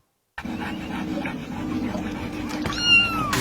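A kitten meows in floodwater, heard from a played video alongside a dog, with a steady wash of background noise and a clearer, rising meow-like cry near the end.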